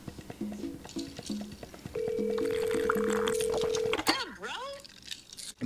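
Several short electronic beeps from a phone dialing a call, then a longer sustained tone, under voices talking.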